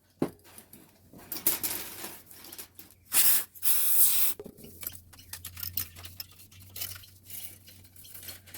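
Carburetor cleaner sprayed onto the housing of a Ryobi PLT3043YW pull starter in short hissing bursts, with one strong blast lasting about a second, among light clicks and handling noises.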